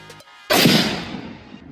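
A single loud rifle shot fired with Norma bullets: one sharp, close report followed by a rolling echo that decays over about a second.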